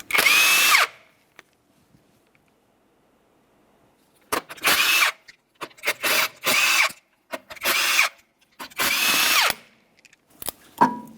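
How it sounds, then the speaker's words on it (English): Power tool removing the five 19mm lug nuts from a front wheel of a 2012-2015 Honda Civic, several loud close bursts of buzzing whir separated by short pauses, alone without talk. "we're going to remove all 5 of these lug nuts using a 19mm so we can remove the wheel"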